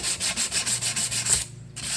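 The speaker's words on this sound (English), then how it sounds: "I just take a little bit of a sanding block here with 400 grit sandpaper and just lightly just kind of go over and sand that" Rhythmic, steady rubbing of 400 grit sandpaper on a sanding block against a Briggs and Stratton tank-mounted carburetor base, about eight even back-and-forth strokes close by, then a brief pause before scraping resumes.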